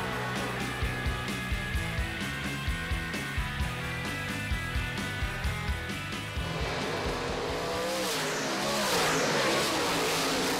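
Dirt track race cars roar around Eldora Speedway at the World 100, loud engines revving in a rapid pulsing rhythm as cars pass close, then a broad sustained roar of the pack with no talk.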